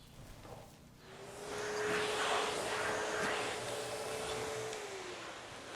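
A HEPA-filter vacuum cleaner runs with a steady broadband whoosh that swells after the first second and holds fairly loud and close, a faint motor whine underneath, no talking.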